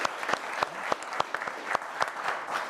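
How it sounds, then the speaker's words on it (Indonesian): Applause for Pak Rahim from a studio audience on a talk show, a light scattering of distinct claps over a soft crowd wash, moderately near and unbroken by speech. "Tepuk tangannya boleh dong buat Pak Rahim."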